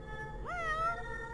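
A cat meows once within the game Fausts Alptraum, a clear rising-and-falling call heard alone over a soft background hum.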